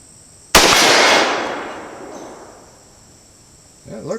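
A single loud, close gunshot from a Henry H015-223 rifle fitted with a Skinner Sights scope, a sharp crack that rings out and fades slowly, followed by a brief voice at the end.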